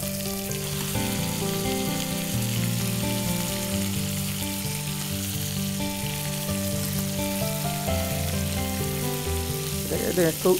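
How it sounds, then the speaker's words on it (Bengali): King prawns fry in a pan with a steady, loud sizzle that holds evenly throughout, under a faint tonal background and a brief clatter near the end. "আমি এটাকে একটু একটু ভেজে নিতে যাচ্ছি আর কি"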